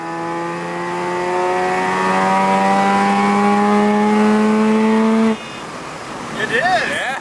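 A carbureted rotary engine holds a loud, steady high-revving drone against its rev limiter for about five seconds, then cuts off abruptly, leaving a quieter rumble and a brief whine.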